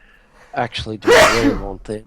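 A single sharp, loud sneeze bursts out in the middle of a podcast conversation, with people talking just before and after it.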